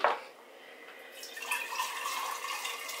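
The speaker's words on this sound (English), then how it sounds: "let's go ahead and add some water in our jars" Pure filtered water poured into glass jars while making whey probiotic lemonade, a faint trickle swelling into a steady, splashy pour that runs close by and alone.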